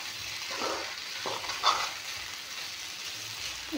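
Chicken cooked with spices fries in a pan, giving a steady close sizzle and hiss with occasional stirring scrapes and a brief clink.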